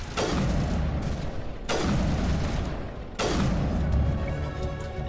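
Three heavy gunshot blasts from Mass Effect boom at roughly even intervals, each trailing into a long echoing decay, loud and without speech.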